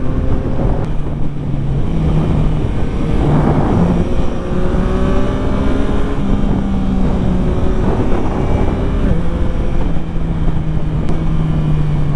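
A 2025 Yamaha MT-09 A2 motorcycle engine and exhaust while riding, a loud continuous drone rising and falling through gear changes, heavily buffeted by wind noise.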